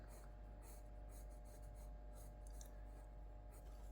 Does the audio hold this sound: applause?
no